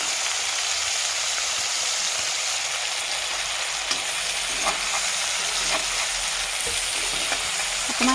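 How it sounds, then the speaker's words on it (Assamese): Tomatoes frying and sizzling in a pan with bits of fish, stirred now and then, giving a steady close hiss with soft scraping clicks of the utensil throughout. "অকণমান লৰাই দিছোঁ।"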